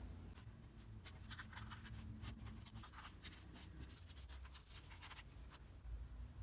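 Soft scratchy pen strokes on paper while writing a journal entry in a composition book, faint and close, in short bursts over a low steady background hum.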